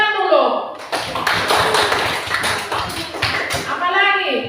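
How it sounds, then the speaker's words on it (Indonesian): Children in a classroom clap their hands together in a quick, rapid burst of sharp claps lasting several seconds, framed by a teacher's voice before and after. "Minyak kayu putih, tepuk tangan dulu."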